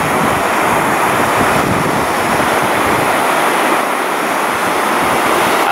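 Strong tidal current at Saltstraumen near Bodø, a loud, steady broadband rush of water mixed with wind buffeting on the microphone, continuous without any pause.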